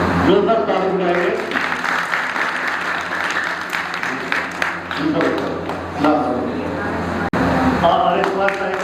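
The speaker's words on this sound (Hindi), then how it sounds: "जोरदार ताली बजाएंगे।" Audience clapping at a children's summer camp at an Arya Samaj in Kalka Ji, a sustained burst of applause from a crowd that rises again near the end, with some voices mixed in.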